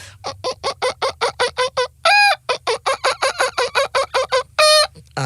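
A mimicry artist imitates a domestic hen before and after laying an egg, rapid evenly spaced clucks broken by two long drawn-out squawks, loud and close.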